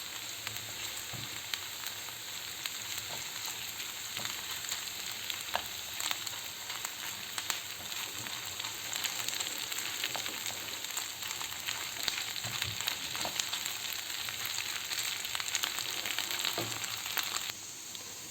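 Tomato and pepper paste fries in a pan for a vegetable gözleme filling, giving a steady, close crackling sizzle that runs unbroken throughout with no voices.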